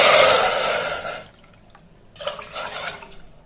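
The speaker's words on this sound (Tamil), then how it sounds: "அதே கப்பில் நம்ம ஒரு 3 கப்பு தண்ணி ஊற்றிக்கிடுவோம்." Three cups of water pour into a cooking pan. A bright, rushing splash fades out, then after a short pause a second, softer pour follows.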